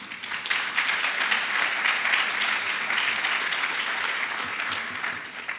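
Loud, sustained applause from a conference audience, steady clapping that fills the whole stretch and eases slightly at the end.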